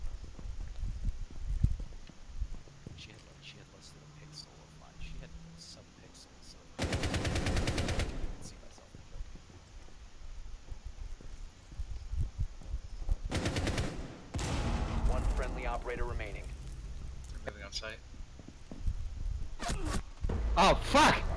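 Gunfire in the Rainbow Six Siege video game: several sharp rapid-fire bursts scattered across the stretch, loud and close, separated by quieter moments with footsteps, light clatter and occasional talk.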